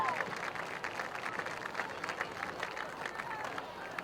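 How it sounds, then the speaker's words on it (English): Crowd applause during a hall of fame induction ceremony at the Princeton vs Colerain high school football game, a steady, moderately distant patter of many hands clapping for several seconds with a faint murmur. "How about a nice round of applause for Holly Boki Curtis, class of 2007."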